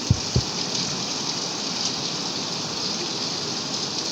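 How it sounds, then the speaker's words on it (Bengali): Heavy rain falls at night in a steady, broad rushing wash, loud and unbroken, with a couple of soft thumps near the start and no speech. "আর এই তো এখন জোরে জোরে বৃষ্টি আসছে"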